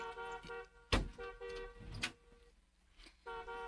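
Two sharp car horn honks, close and loud, separated by about a second, over a steady engine hum.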